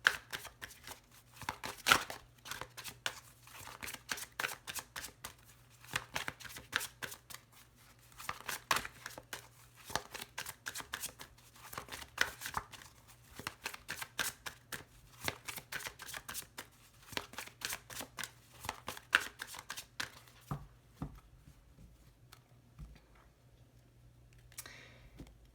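A tarot deck being cut and shuffled, giving a long run of quick papery riffles and soft clicks close by, with no talk, easing to quiet near the end.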